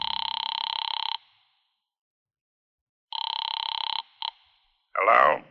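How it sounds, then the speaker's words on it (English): A telephone rings in two long bursts, loud and close, in a vintage radio detective drama, followed by a short click and a receiver being picked up. "I went to a phone booth and called my client, Fred Lane."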